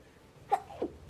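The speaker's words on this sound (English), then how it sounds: "Sneezing, my eyes are watering." Two small stifled sneezes, quick and muffled, follow one another within half a second, faint against low background noise.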